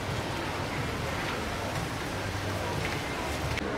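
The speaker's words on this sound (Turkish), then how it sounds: "Hiç beklemiyordum yağmuru" Steady rain pours down in a city in Qatar, a dense, even hiss of drops on wet surfaces, loud and continuous throughout.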